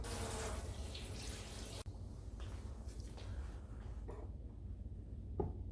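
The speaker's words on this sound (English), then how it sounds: "I actually need to rinse this spoon off and rinse my hands off" Water runs from a kitchen tap as a spoon and hands are rinsed under it, a steady broadband splashing that continues throughout, briefly interrupted once, with no talking.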